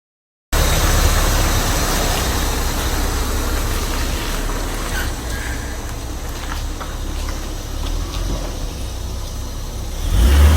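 A 1976 Jaguar XJ6 Series 2 engine runs steadily while the car drives around the block. The drone swells louder near the end as it accelerates, with no talk.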